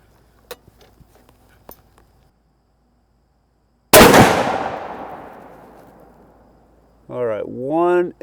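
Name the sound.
muzzleloader rifle shots while sighting in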